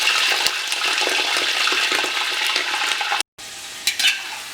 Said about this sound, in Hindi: ये हमारा चिकन है, इसे डालेंगे और लगभग 20-25 मिनट तक बढ़िया से भून लेंगे